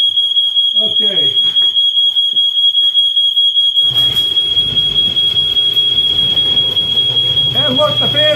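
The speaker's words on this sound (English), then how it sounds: "The smoke alarm went off." A smoke alarm sounds as a continuous high-pitched electronic tone through the whole stretch, near a homemade infrared heater, while a person talks briefly and later a low rumbling and clatter rise beneath the beeping.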